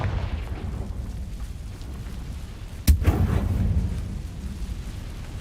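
A Confringo spell goes off in the game Hogwarts Legacy, one sharp booming explosion partway through, rumbling and fading over low background noise.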